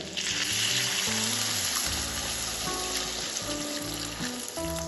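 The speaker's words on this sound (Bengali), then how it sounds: "এবার আমি এর মধ্যে দিয়ে দেবো 1 কাপ মতো জল।" Water pours into a pan of frying spices and bitter gourd for a prawn curry, giving a loud, continuous sizzle and bubbling with steady hiss throughout, no talking.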